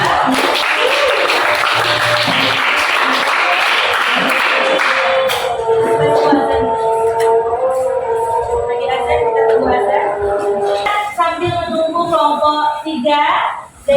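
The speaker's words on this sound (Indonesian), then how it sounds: "Tepuk tangan buat kelas 2" Loud, dense applause from a primary school class fills the room for the first few seconds, then cuts off as children's voices and a tonal chant take over.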